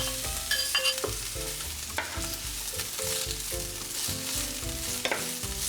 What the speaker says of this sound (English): We're gonna fry these up in the pan now with some oil